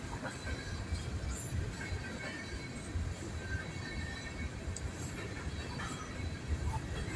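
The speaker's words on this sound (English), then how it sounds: "this train has stopped, but the other train is still going." A northbound train rolls past in a steady, continuous rumble with faint wheel clatter and occasional squeals, heard from trackside at moderate distance with no talk.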